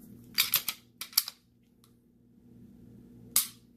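A Walther PPQ pistol's crisp trigger is dry-fired during a function check, giving sharp, close mechanical clicks: a quick cluster early, another pair shortly after, then a single click near the end, with quiet in between.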